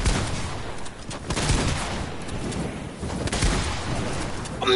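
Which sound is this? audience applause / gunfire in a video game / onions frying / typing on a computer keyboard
gunfire in a video game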